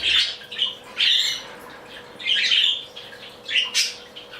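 A flock of pet budgies, one of them a found lost budgie, gives repeated loud, harsh squawks and chirps in close bursts about every second, with short quiet gaps between calls and no talking.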